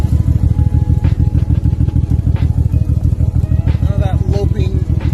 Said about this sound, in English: She is currently idling nice and steady.